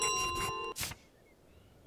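A bell jangles as it is carried around in Untitled Goose Game, ringing with a bright metallic tone for half a second, then giving a short clanging burst before fading into quiet.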